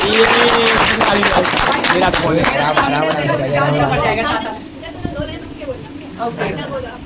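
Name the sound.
audience clapping after a couplet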